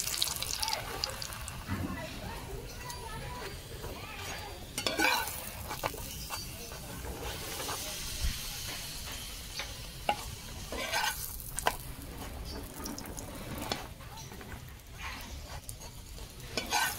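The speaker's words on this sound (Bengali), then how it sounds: "একটা পরোটা ভাজা হয়ে গেছে," A paratha fries in white oil on a tawa, giving a steady sizzle broken by scraping and flipping clatter, with occasional sharper knocks. It is close and moderately loud, and there is no speech.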